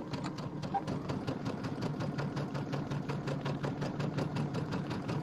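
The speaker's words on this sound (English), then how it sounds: "I'm going to sew straight over to this other corner." A sewing machine runs steadily, stitching straight across a quilt square in a rapid, even needle rhythm that carries on without pause, close and fairly loud with no voices over it.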